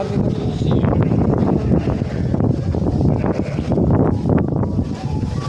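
Strong wind in Kyotango, Japan, buffets the microphone in a continuous loud rumble, gusting unevenly throughout with no clear voices.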